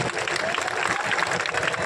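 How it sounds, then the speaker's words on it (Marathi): A crowd claps at a wrestling event in Tembhurni, a dense steady patter of applause heard close and loud for the short stretch, without any speech. "जर कार्यक्रम आवडला असेल तर सर्वांनी एकदा अभिजिताबांच्यासाठी टाळ्या करा सर्वांनी।"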